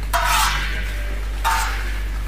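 Ground spice paste is stirred and fried in a pan, with two bursts of scraping, sizzling noise over a constant low hum, close and fairly loud.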